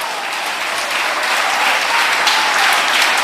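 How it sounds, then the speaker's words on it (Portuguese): A church congregation applauds, a loud sustained wash of many hands clapping that holds steady and swells slightly throughout. "Pode aplaudir Jesus."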